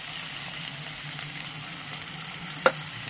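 Chopped onion and potatoes fry in oil for a Bengali catla fish curry with potato and aubergine, giving a steady, soft sizzle with one brief clink near the end.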